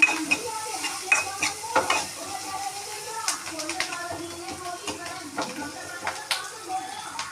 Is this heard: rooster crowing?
no